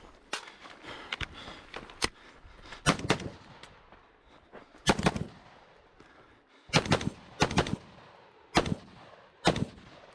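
Rifle fire in a rifle match stage with a steel target array and room clearing, about a dozen sharp, loud shots in irregular bursts and pairs, close by and echoing over quiet gaps.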